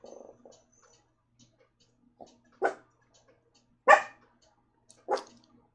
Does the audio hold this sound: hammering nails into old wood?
no